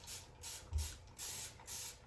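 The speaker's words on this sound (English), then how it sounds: "I'm spraying more on the outside and less in the middle as well" A spray bottle mists water onto watercolour paper in three or four quiet, evenly spaced hissing bursts, each lasting a fraction of a second, with pauses between them.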